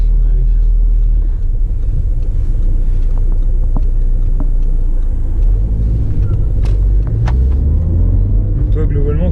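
A Seat car on the road, heard from inside the cabin as a steady, loud low rumble of engine and tyres throughout, with people talking over it.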